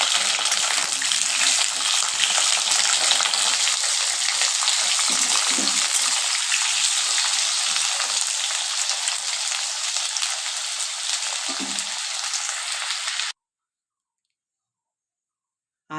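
Potatoes shallow-frying in oil in a pan give a continuous close hissing sizzle with faint clicks, steady for about thirteen seconds before cutting to silence.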